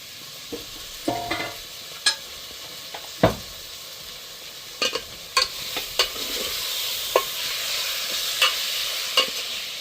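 Mutton pieces fry and sizzle in hot oil in a home kitchen pot, with a steady crackling hiss broken by repeated scraping and clinking strokes of a stirring spoon, close and without talk.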